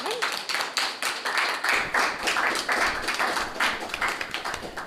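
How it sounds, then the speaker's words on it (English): An audience at a school debate competition claps in quick, fairly loud bursts, individual hand claps distinct and uneven, with a few people clapping close by. "Come on, clap."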